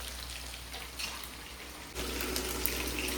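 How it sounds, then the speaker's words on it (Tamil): Water poured into a pot of fish curry makes a soft, steady splashing stream, faint and close, growing slightly fuller partway through, with no talking. "சரி தேவையான தண்ணி ஊற்றிடுவோம்."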